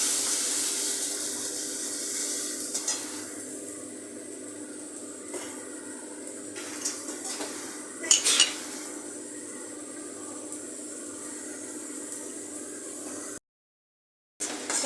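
Spice paste sautéed in a pan for soybean dhoka dalna: a steady low hiss of cooking runs throughout, with occasional scrapes and clinks from stirring and a brief louder clatter midway, ending in a short cut to silence.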